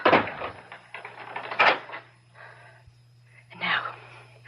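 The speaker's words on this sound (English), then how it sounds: "Open the door." A closet door opens with a wooden creak and clatter amid a dramatized radio mystery scene, with breathy gasps and movement around it and a low steady hum underneath.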